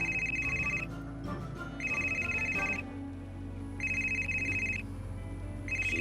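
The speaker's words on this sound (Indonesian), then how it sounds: "Si bos telepon." A phone ringtone repeats in regular bursts of about a second, each followed by a short gap, sounding moderately loud over a low indoor background.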